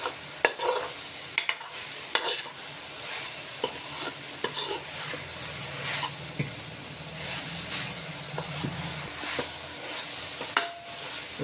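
Maggi noodles with onion and tomato frying in a pan, stirred with a spoon, giving a steady close sizzle broken by repeated sharp scraping clinks of utensil on metal.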